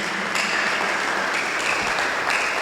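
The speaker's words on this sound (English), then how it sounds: "Another round of applause" Audience applause at a keynote lecture event, a steady dense wash of clapping that carries through the whole stretch without a break and with no talk over it.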